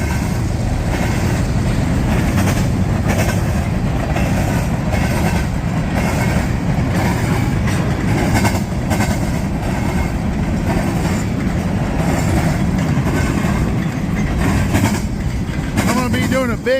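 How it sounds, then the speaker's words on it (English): A freight train with a DPU locomotive working hard rolls past nearby, giving a loud, sustained rumble of engine and wheels with clattering rail noise throughout. "That DPU is working hard."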